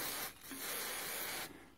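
Lubricant is sprayed onto a rubber shock absorber bush while fitting new rear shocks to a 1993 Ford Courier pickup: a close, steady aerosol hiss that briefly dips, then continues for about a second before stopping.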